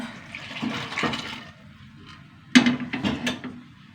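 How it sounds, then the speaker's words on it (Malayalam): Cooked lentils poured into a pan of small onions while making sambar, giving a sudden wet splash and slosh midway through, with softer liquid sounds before it. "നമ്മുടെ വേവിച്ച് വെച്ച പരിപ്പ് ഒഴിച്ചു കൊടുക്കുക"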